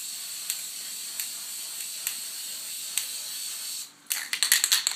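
Short hissing bursts from a spray paint can onto a shutter repeat at a steady pace, then a quick run of rapid sprays close by at the end.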